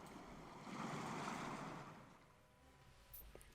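A Syrinscape tentacles sound effect built on water: a surging, sloshing watery swell that rises and fades, followed by a faint splash near the end.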